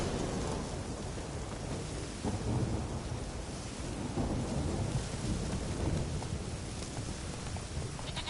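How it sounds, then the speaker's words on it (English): Rumbling thunder and steady rain in The Witcher 3 fill a continuous dense wash of noise, with low rolling swells and faint bleating sheep mixed in, and no talking. "Lightning strike."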